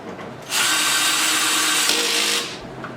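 A power drill tightens a bolt during furniture assembly, a single close, loud whirring burst of about two seconds that starts abruptly and winds down at the end.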